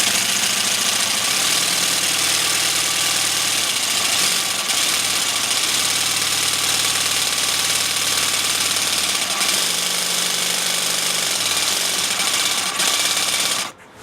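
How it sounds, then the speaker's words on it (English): Jigsaw cutting wet tile in a straight line, a steady loud broadband buzz with a low motor drone that holds almost continuously, dipping briefly before stopping abruptly at the end. "There's no laser on this jigsaw, so you just really got to be careful if you want to get a straight cut."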